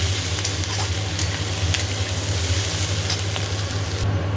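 Mixed vegetables and onion for egg chow mein stir-fry in a hot pan, a loud continuous sizzle with frequent scraping strokes of the spatula, close up over a steady low hum.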